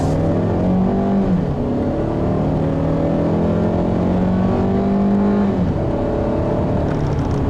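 2014 Hyundai Santa Fe Sport with the base 2.4-liter four-cylinder accelerating, a steady droning engine note rising in pitch with a shift partway through, heard from inside over constant road noise, no talking.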